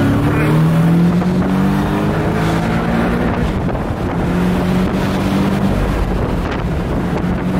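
Porsche engines rev during a street race, a loud, sustained drone with rising and falling tones, buffeted by heavy wind noise as if recorded from a moving open car.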